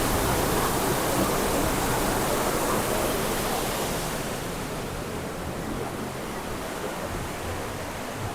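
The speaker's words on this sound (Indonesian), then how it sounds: "Ternyata sungai bawah tanah adalah seperti ini ya." Underground river rushing through Jatijajar cave in Kebumen, a loud, constant roar of flowing water filling the space, slightly easing toward the end, with no speech.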